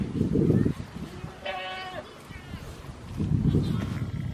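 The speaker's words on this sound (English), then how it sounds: "these are Nigerian dwarf goats. And also got a Vietnamese potbelly pig. I do see there's also a sheep in here." Nigerian dwarf goats and a sheep at a wildlife center give a single short, nasal bleat. It sits between bursts of rustling outdoor noise, and someone talks in the background.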